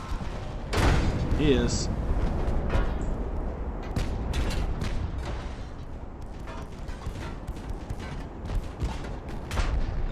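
Warship guns boom in Ultimate Admiral: Dreadnoughts as a ship fires on its own vessel, heavy repeated blasts and rumbling impacts throughout, with voices talking over the barrage.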